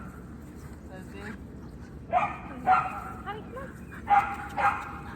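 Several dogs give short yips and barks in a home, coming in bursts close by, with a person speaking to them over the noise.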